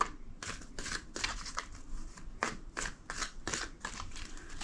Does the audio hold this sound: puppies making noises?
no